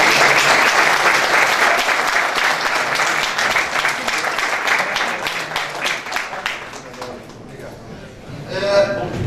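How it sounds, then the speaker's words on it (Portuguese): Sustained applause from an audience at a jury tribunal lecture event honoring the president, loud at first and gradually thinning out, with voices talking underneath and near the end. "Palmas, então, nosso presidente."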